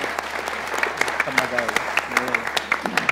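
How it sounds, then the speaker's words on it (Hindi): Clapping during a heated televised cricket discussion, a run of sharp claps under an ongoing conversation, with a voice talking over them. "ताली बजाओ बेटा"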